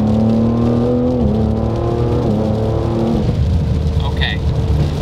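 Tuned Ford Explorer ST making about 700 horsepower, its twin-turbo engine held at 20% throttle with a steady droning hum and rising tones, heard from inside the cabin with people talking.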